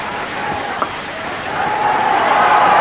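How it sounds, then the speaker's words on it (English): A cricket crowd at a one-day international in Colombo begins clapping in anticipation of a century, a broad wash of distant applause that swells gradually louder toward the end. "And the anticipatory clapping starts."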